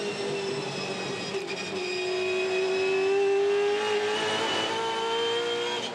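V8 Supercars race car at the Ipswich SuperSprint, its engine note a strong, sustained tone that sweeps slowly down and up under throttle, steady and moderately loud.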